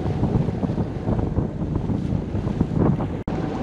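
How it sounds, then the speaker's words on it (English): Light wind blows over a sailboat at sea off Newfoundland, with a steady rushing noise, rumbling buffets on the microphone and faint water movement, then a brief dropout near the end. "So the wind's pretty light."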